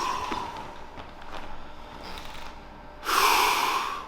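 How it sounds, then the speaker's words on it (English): During a chiropractic adjustment, a person draws one deep breath in and then blows it out in a loud, rushing exhale that fills the final second, close to the microphone. "One more big breath in and blow it out."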